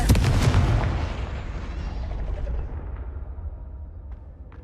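Explosive blasts of the Confringo spell in Hogwarts Legacy, a loud booming burst at the start followed by a long rumbling decay that fades over several seconds, with no talking.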